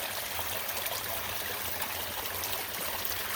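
Artesian spring water trickling from a small spigot on a ranch garden plot, a steady, soft, close burbling stream with no voices.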